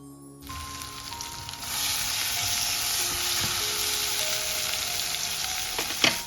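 One large chopped tomato sautéing in hot oil in a pan, with a steady, fairly loud sizzle that starts abruptly after a brief quiet moment, joined by occasional scraping stir clinks and a sharper clatter near the end, no voices.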